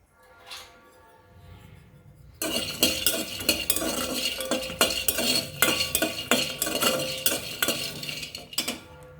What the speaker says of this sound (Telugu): ఇప్పుడు వెల్లుల్లిపాయల్ని మామూలుగా డ్రై రోస్ట్ చేసేసుకుందాం